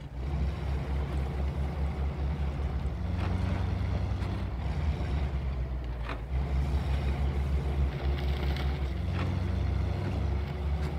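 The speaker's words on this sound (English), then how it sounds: "The sounds are really nice on this truck so far" A C.C.M. FSLR90 pickup truck engine in the game SnowRunner, a steady loud low rumble that runs continuously with small surges in throttle and no speech.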